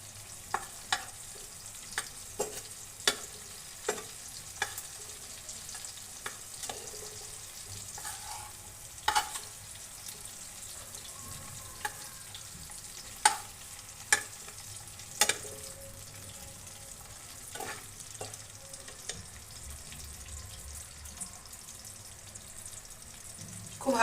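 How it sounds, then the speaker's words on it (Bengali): Stuffed cabbage and prawn snack frying lightly in a pan, a faint low sizzle under frequent sharp clicks and taps of utensils spread throughout, quiet and close, with no talk. "খুব হালকা করে ভেজে নিয়েছি বন্ধুরা"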